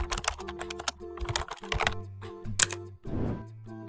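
Keys clack on a computer keyboard in a quick burst of close taps, followed by a louder click and a brief soft rustle, with background music tones and no speech.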